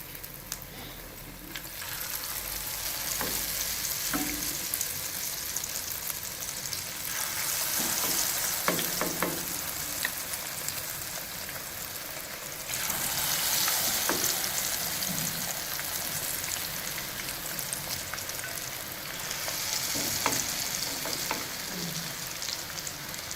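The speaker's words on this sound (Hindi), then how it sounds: "घी जब अच्छी तरह गर्म हो जाए तो इसमें हम 1 चम्मच के साथ टिक्कियाँ डालते जाते हैं" Onion tikkis (fritters) frying in hot ghee in a village-style kitchen, a steady loud sizzle throughout with occasional stirring and spoon scrapes, no talk.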